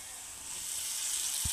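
Soaked bajra vadas dropped into a pan of salted onions, raising a soft sizzling hiss that swells after a quiet start, with one brief low knock near the end.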